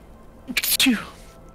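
A single sharp sneeze bursts out at close range in a quiet room during a tabletop game session, with a voiced onset and a breathy, noisy release that trails off quickly.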